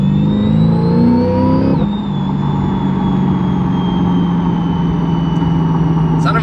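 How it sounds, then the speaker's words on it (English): A supercharged mid-engine Chevrolet Corvette C8 holds a loud, high whining rev with a supercharger pitch that drops slightly, then sustains close up. "It's not every day you hear a mid-engine that's supercharged like that."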